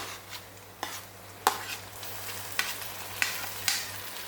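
Onion, crushed garlic and finely chopped tomato sautéing in a pan for besan onion bhaji, a soft continuous sizzle broken by several spatula scrapes and clanks against the pan, no talking.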